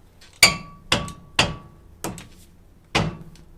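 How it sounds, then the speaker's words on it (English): Five heavy, dull dead blow hammer blows land one after another on a brake rotor of a first-generation Toyota 4Runner at an uneven pace, each a sharp thud with a brief ring. "we just got to use a dead blow hammer to get behind here"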